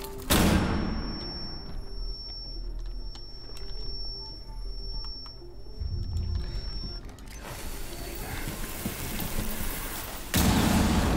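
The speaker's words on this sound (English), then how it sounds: "flashbang." A flashbang grenade goes off in a video game with a sharp bang, followed by a long high ringing tone and muffled rumbling, then another loud burst near the end.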